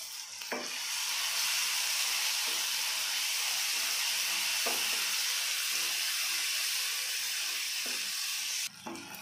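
Masala sizzling in a pan while being stirred for Bengali-style masala kochu, with salt and raisins in the mix. A continuous close frying hiss runs throughout, with soft stirring knocks at a few points and no talking.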